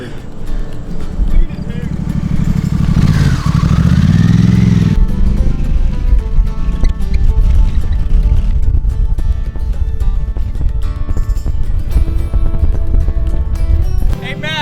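A Honda Africa Twin 1100 motorcycle climbing off-road to a cliff top, its engine loud and continuous with a rising rev in the middle, while people talk nearby.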